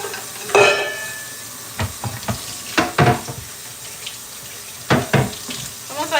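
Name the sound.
water running in sink while washing dishes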